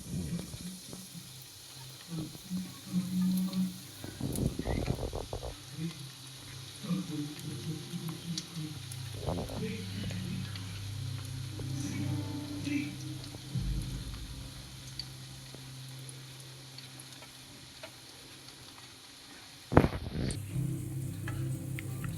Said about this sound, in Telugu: వాటిని ఈ నెయ్యిలో మనం ఫ్రై చేసుకోవాలి.